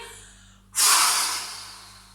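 Forceful exhale during a sophrology breathing exercise, a sudden loud breathy rush of air that starts abruptly after a short quiet pause and slowly fades as it continues.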